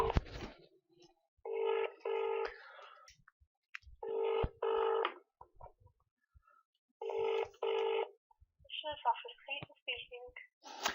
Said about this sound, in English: I'm going to phone the Crime Commissioner's office and ask them for a phone number.